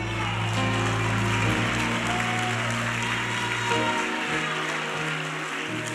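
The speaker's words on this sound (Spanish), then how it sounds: "Dele gloria a Dios, aplauda fuertemente." A church congregation at a prayer meeting applauds loudly, a dense continuous wash of clapping that stays steady and close throughout, with musical tones and instruments sustained underneath.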